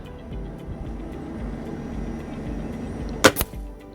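A Gamo Swarm Fusion 10x Gen 3i air rifle fires a Red Fire pellet, one sharp crack followed by a brief second snap near the end, set against quiet outdoor ambience.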